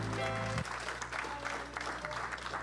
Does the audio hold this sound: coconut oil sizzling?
no